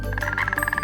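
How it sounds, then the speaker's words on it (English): A frog in the Wonderbox video game croaks in a rapid, close, loud series of pulsing ribbits. "Frog, frog, frog, frog!"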